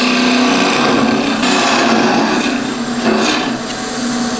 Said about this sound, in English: Now I'm going to just turn a bit of a hollow in there with a spindle gouge.